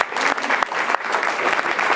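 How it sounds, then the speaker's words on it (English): Audience at a YMCA partnership event giving a warm round of applause, dense and steady clapping filling the short stretch at close range with no talking. "Would you give him a warm round of applause?"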